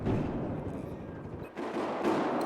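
Shotgun fire in the video game Battlefield 4, a dense barrage of booming blasts and rumbling gunfire, loud and continuous with a brief dip midway.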